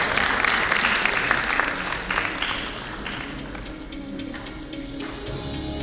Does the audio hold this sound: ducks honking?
no